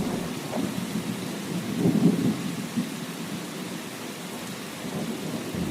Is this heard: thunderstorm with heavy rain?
yes